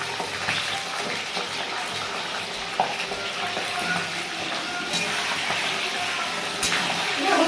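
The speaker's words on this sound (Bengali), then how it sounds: "এর মধ্যে আমি চিকেনটা দিয়ে দিচ্ছি।" Chicken pieces go into a pot of hot oil with fried onions and chillies, giving a constant close sizzle with occasional clinks and stirring noises.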